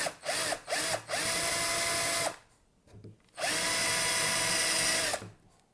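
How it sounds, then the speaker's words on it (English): A power drill countersinks a screw hole in a homemade scoring board, with two short whirring bursts followed by two longer sustained runs, each spinning up and winding down, close and loud. "put in a larger one, and I'm just going to put that in there and countersink it"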